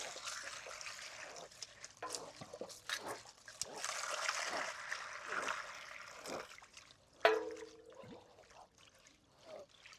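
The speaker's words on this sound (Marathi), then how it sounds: "एक वाटी हरभऱ्याची डाळ घेतली ती टाकून ती पण धुवून घेणार आहे राजमा पण त्याच्यातच टाकायचा आहे" Split chickpeas and kidney beans are washed in water in a wide pan, with soft trickling, swishing and splashing throughout and a sharper knock near the end.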